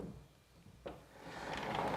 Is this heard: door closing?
yes